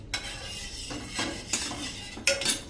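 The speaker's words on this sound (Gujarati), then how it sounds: "અત્યારે મારી પાસે ઘાટું જ દહીં છે તો હું અત્યારે 1 ચમચી જ નાખું છું। આ રીતે આપણે એને મિક્સ કરી દેશું" A spoon stirs thick curd in a bowl, giving four or five distinct clinks and scrapes against the side at an uneven rhythm, close and fairly quiet.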